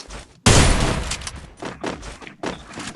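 Rapid gunfire bursts in the Garena Free Fire battle royale game, a loud volley followed by several shorter clustered rounds, with no speech.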